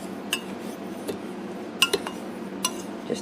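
Spoon stirring a dry mix of baking soda and citric acid in a bowl, a few sharp clinks and scrapes at irregular intervals, close and clear with no talking.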